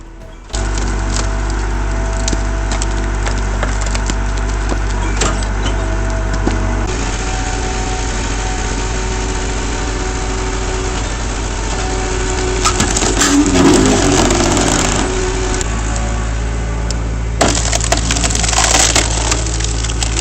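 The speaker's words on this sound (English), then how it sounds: "the shorter logs were placed into the machine, where sharp blades split them cleanly and evenly" A large wood-processing machine splitting short logs with sharp blades, a loud continuous engine drone under cracking, splintering wood, with bursts of harsher crushing noise partway through.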